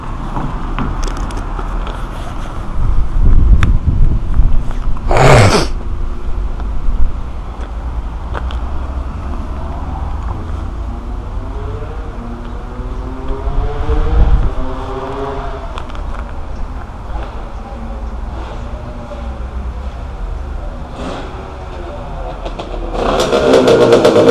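A Husqvarna 125 motorcycle engine, started for the first time, runs loud and close with a rough idle and rising, falling revs, and a few sharp clanks break through the engine noise.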